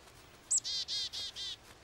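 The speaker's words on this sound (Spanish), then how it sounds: "¡El pájaro! ¡Abuela, está en mi mano!" Cartoon small bird perched in a hand gives a quick run of bright, high chirps, about five short tweets in a row, clear and close with no talk over them.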